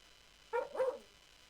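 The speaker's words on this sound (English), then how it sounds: "Apparently, it's a dog barking." A single dog bark, a short double-edged woof, close and clear in an otherwise quiet space.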